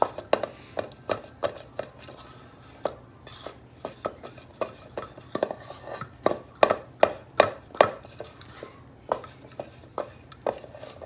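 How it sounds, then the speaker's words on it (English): Spoon stirs biscuit dough in a bowl being spun, a series of sharp scraping knocks against the bowl in an uneven rhythm, close and clear with quiet gaps between. "It's easier to kind of spin my bowl and stir as I go."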